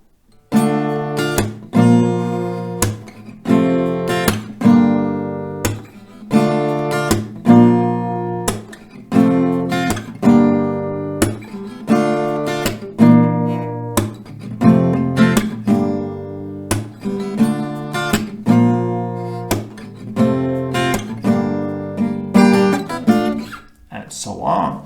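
An acoustic guitar strums a chord progression in a steady down-up pattern with percussive slaps or claps, a repeating rhythmic cycle played loud and close for about twenty-five seconds.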